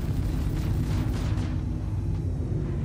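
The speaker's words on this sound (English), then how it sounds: "Somebody shot missiles at me." Missiles striking a ship in the space game Star Citizen, a series of deep booming impacts with rumbling bursts over a heavy low engine drone, without speech.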